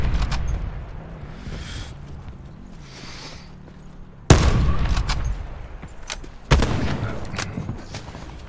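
Gunfire in the Call of Duty Blackout battle royale game: two sudden loud shots or bursts stand out sharply against a low rumbling background, with fainter distant shots and game ambience before them.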